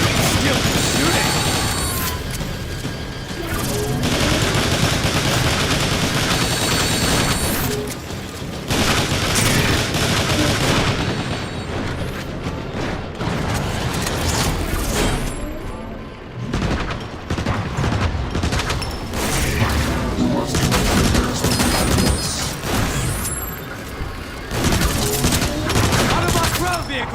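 Sustained bursts of rapid gunfire and booming explosions from the campaign of the video game War for Cybertron, loud and nearly continuous, with brief lulls and a voice occasionally heard underneath.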